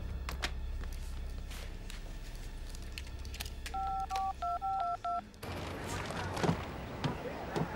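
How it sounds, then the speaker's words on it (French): A telephone's touch-tone keypad beeps through a short sequence of dialing tones over a low background rumble, followed by shuffling movement and rustling. "Le téléphone!"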